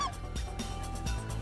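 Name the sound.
specklebelly geese honking in flight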